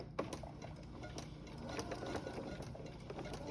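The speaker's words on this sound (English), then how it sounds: "My machine is warning me that there's no thread, but that's okay because I'm going to just keep sewing without it." A sewing machine stitches through paper with no thread loaded: a steady close mechanical whir with rapid needle ticking throughout, and no talking.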